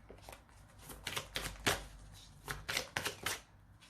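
Oracle cards are shuffled by hand in quick papery riffling bursts, close and crisp, repeating in an uneven rhythm over a few seconds without talk.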